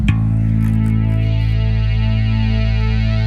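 A sustained, bright synth-string tone from a bass guitar through a Boss synth pedal, one long held chord with steady swirling harmonics, loud and continuous.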